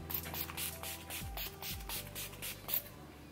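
Urban Decay setting spray is misted in a run of quick, soft hissing spritzes, close but faint, with light handling noise between them.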